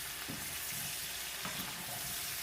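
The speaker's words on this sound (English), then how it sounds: "So we're going to give it a little gentle stir." Candied yams coated in cinnamon are gently stirred in a pot on the stove, with soft scraping strokes under a steady simmering sizzle.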